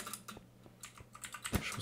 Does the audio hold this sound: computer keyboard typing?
yes